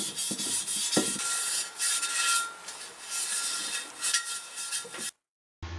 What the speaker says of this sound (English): I'm just going to take this pad, which is equivalent to 320 grit, and scuff the whole surface so that the paint adheres to it